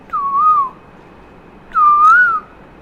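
Two clear, wavering whistled calls, each under a second, separated by a pause; a person whistles in imitation of a cooing bird, close and loud.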